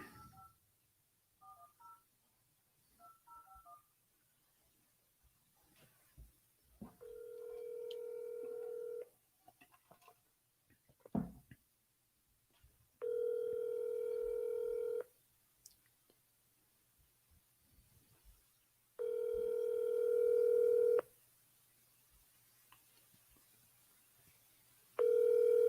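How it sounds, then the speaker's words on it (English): A phone call is placed: touch-tone dialing beeps, then a steady ringback tone repeating in long evenly spaced bursts while the line waits unanswered, faint clicks in between and no talk. "I'll wait for someone to answer their dang phone right now"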